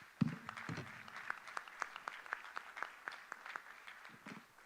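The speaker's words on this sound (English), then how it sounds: "Please give our guests a round of applause" An audience claps for visiting guests at a gathering of Christians in the Holy Land, the applause thin and uneven, a scattering of separate hand claps rather than a dense ovation, a few louder bursts near the start.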